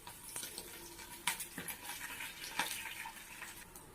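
Mustard seeds, onions and curry leaves fry in a pan for bendakaya kura, giving a steady close sizzle with scattered sharp crackles and occasional stirring scrapes throughout.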